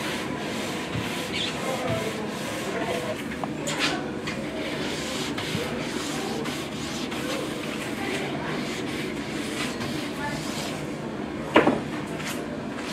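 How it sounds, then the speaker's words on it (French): A soft brush works over a waxed ski base for the finishing pass, giving a continuous close, dry rubbing hiss with a small knock near the end. "On a une petite brosse un peu plus douce pour la finition"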